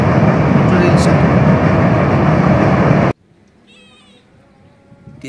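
A train crosses the Tista River railway bridge with a loud, dense, continuous roar for about three seconds, then cuts off abruptly to near silence with only faint, scattered sounds.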